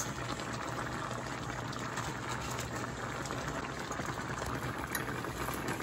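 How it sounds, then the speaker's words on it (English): Barilla angel hair pasta cooks in a pot of boiling water, giving a steady, close, continuous bubbling hiss and churn with no talking. "We got some Barilla angel hair pasta we're gonna cook now."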